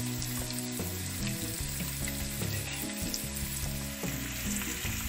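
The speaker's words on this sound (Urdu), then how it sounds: "اور اب اس میں ہم ایڈ کرنے جا رہے ہیں دیکھیں ٹماٹر" Tomatoes hit a hot frying pan of chicken in a desi recipe, giving a loud, steady sizzle and crackle with occasional stirring clinks, no talking.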